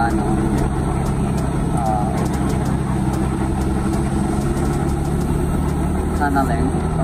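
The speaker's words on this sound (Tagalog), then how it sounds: "You can see daming sasakyan mag-cross ng border." Several cars and heavier vehicles idle steadily at the Laos–Thailand Friendship Bridge border crossing, a continuous low rumble with faint clicks and background noise throughout.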